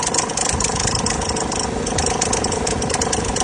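A car engine idles with the air conditioning switched on while a faulty starter Bendix adds a rough, rattling tone. The noise is close, steady and dense for the whole stretch, with no voices.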